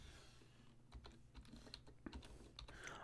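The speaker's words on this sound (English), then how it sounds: "my keyboard's a bit weird for where it is, so I can't really talk when I'm typing at the same time" Soft, close-up typing on a computer keyboard, with a quick irregular patter of light key clicks running throughout, heard alone with no talk.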